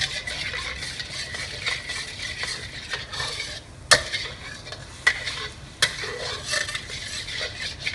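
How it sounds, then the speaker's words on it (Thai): A spoon stirs sauce in a pot, steady scraping strokes over a soft bubbling sizzle, punctuated by a few sharp clinks of metal against the rim. "คนให้มันเดือดขึ้นมานะครับผม"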